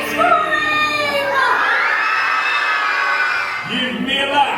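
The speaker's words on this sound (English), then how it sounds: "Let me hear a loud scream, for that is what is needed to summon Halloween. Everybody scream!" A large Halloween cruise crowd aboard the Disney Dream screams together on cue, loud and sustained, with children's shrieks and whoops rising and falling throughout.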